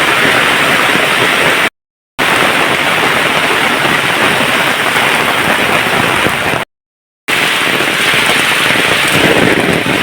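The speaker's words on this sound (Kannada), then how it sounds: "ಮನೆ ಹತ್ರ ಜೋರು ಮಳೆ ಉಂಟು ನೋಡಿ ಈಗ ಜೋರು ಮಳೆ ಬರಲಿಕ್ಕೆ ಸ್ಟಾರ್ಟ್" Heavy rain pours steadily near a house, a dense, loud and continuous hiss broken by two brief silent gaps.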